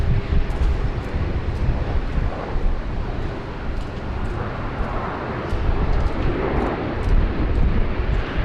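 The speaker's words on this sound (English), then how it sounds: "Beautiful touchdown there from the Virgin Australia Airlines 737-800 arriving from Hobart down in beautiful Tasmania." A Virgin Australia Boeing 737-800 arriving from Hobart touches down at Sydney Airport, heard as a steady, loud broadband jet roar with wind buffeting that holds throughout, swelling slightly toward the end.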